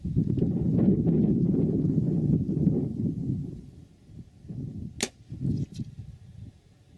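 A rifle fires at a balloon target 200 yards away outdoors in gusty wind: one sharp, brief crack stands out over steady wind rumble, followed shortly by a second fainter snap.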